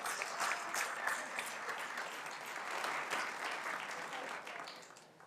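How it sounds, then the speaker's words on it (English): Applause from an audience in a city council meeting chamber, a steady dense patter of many hands clapping at moderate distance that holds for about four seconds, then thins and fades out at the end. "she deserves a round of applause"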